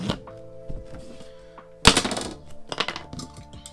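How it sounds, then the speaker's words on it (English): A flooring plank for a classic camper remodel is cut with a tool, giving a loud burst of harsh cutting noise midway through, surrounded by softer scattered knocks and handling sounds. "I'm literally just cutting this somewhere."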